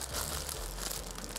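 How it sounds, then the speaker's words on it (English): Greasy plastic bag crinkled and crushed in the hands, a dense, continuous rustle of crackling plastic held close for the whole moment. "I mean, this is a plastic bag."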